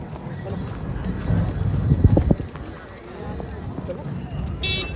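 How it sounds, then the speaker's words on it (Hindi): A horse walking, its hooves clip-clopping in a short cluster of close, fairly loud steps over steady outdoor background noise, with people talking around it. "और ये चलने वाला घोड़ा है, इसकी चाल दिखाओगे?"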